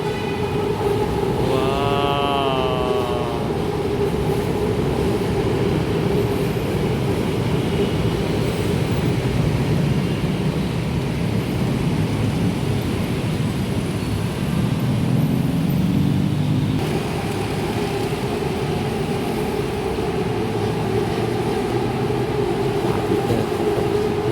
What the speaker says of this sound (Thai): นี่จะมีรถไฟวิ่งผ่านนะครับนะ